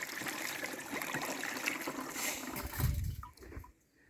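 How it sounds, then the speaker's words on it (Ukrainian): Liquid pours into a sprayer tank holding a mixture for treating apple trees against pests and disease. A steady, close splashing gush is followed by a few heavier glugs before it stops. "Добавляємо його до наш бакову суміш нашу."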